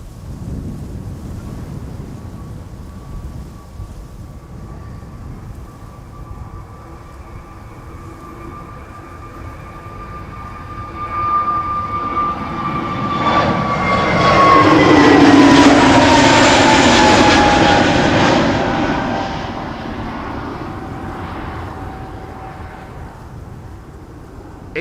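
A jet airliner passes over Amsterdam Schiphol's Polderbaan runway, its engine roar swelling from a distant hum to a loud, broad rush at its closest and then slowly fading, with steady wind noise throughout and no talking.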